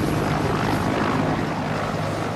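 A helicopter flies close by in a sea rescue setting, its rotor and engine producing a loud, dense, continuous roar that fills the whole clip without a break.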